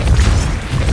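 A Depulso force spell from Hogwarts Legacy bursts out as a deep, rumbling magical boom that keeps up for the whole second, loud and close, with no voice over it.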